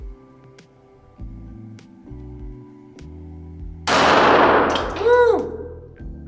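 A Sig Sauer P365 .380 pistol fires a single loud, sharp shot with a ringing metallic tail, preceded by quieter clicks and handling clanks at close range.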